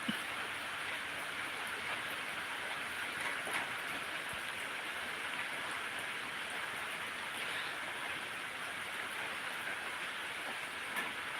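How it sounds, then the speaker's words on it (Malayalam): Steady rain falls in a dense, even hiss with no pauses, heard on its own at a moderate distance with no voices and only a faint scattering of sharper drops. "മഴ വന്നുകൊണ്ടേയിരിക്കുകയാണ്"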